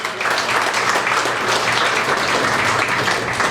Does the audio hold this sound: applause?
yes